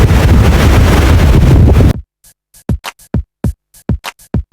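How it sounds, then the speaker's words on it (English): Strong cold wind buffets the microphone in a loud, continuous roar for about two seconds on a windy day out, then cuts into a series of short, sharp gusty bursts separated by near silence. "Can you hear that wind?"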